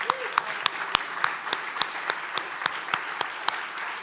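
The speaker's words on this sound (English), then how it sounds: "Round of applause for Art Menius." Conference audience applauding Art Menius at the 2020 Folk Alliance International annual general meeting: a steady bed of many hands clapping, with sharper individual claps standing out at a regular rhythm over roughly four seconds.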